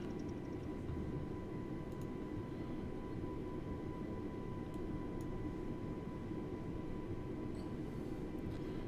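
Airbus A320neo engines in a flight simulator hum at higher power on the runway, a steady droning roar with a thin whine on top, continuous and even from start to finish with no voices.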